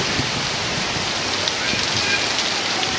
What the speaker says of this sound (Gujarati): ઉમરાળામાં ફૂલે ફૂલ વરસાદ ચાલુ થઈ ગયો છે